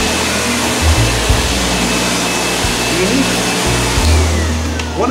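A Sebo X4 upright vacuum cleaner drones loudly and steadily as it runs across carpet, its motor holding a constant pitch with small shifts in load and no talking over it.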